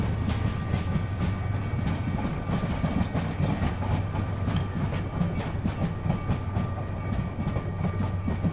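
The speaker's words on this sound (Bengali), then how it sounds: "এটা হচ্ছে চট্টগ্রাম থেকে কক্সবাজার আসে এই ট্রেনটা।" Passenger train on the Chattogram to Cox's Bazar line rolls past close by, a steady heavy rumble with repeated clickety-clack of wheels over rail joints throughout, no voices.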